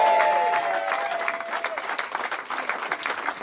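A football ground crowd roars and applauds the final goal, dense clapping and cheering holding loud and steady throughout, with whistles and shouts rising over the applause.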